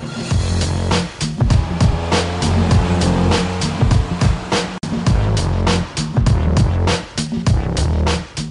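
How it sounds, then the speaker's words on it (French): A 2008 Mitsubishi Lancer, a brand-new model, out on a test drive: loud, close engine and road noise rising and falling, with sharp transient clicks and thumps punctuating the drive. "on essaie la Mitsubishi Lancer 2008, un tout nouveau modèle"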